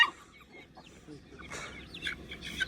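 A chicken clucks on a farm, a few short, moderately loud calls and chirps over a busy outdoor background.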